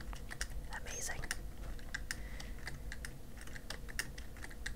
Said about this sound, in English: I bet you guys can hear my spacebar